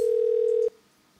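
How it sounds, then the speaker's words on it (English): A single steady telephone line tone on a call-in chat line holds loud and unbroken for about two-thirds of a second, then cuts off abruptly into near silence. "It just keeps ringing."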